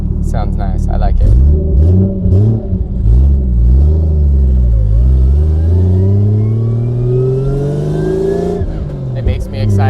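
A BMW E36 with a swapped 1JZ turbo engine revs repeatedly, rising and falling in pitch with a long climbing pull near the end, loud and close, while people talk over it.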